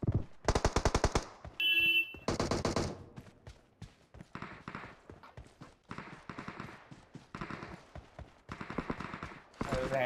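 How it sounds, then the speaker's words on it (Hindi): Bursts of rapid machine-gun fire in the video game PUBG, loud and close, come in repeated rattling volleys, with short pauses and scattered single shots between them. "सारी गोलियां कान के पास जा रही मेरी"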